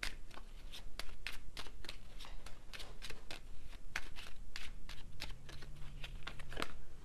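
Tarot cards shuffle close up in a quick, steady run of crisp riffling flutters and soft slaps, with no talking.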